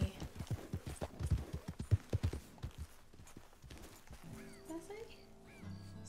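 Horse hooves clip-clopping in a steady trotting rhythm in Red Dead Redemption 2, close and fairly loud, then fading as soft music takes over, with a short high whinny-like call near the end.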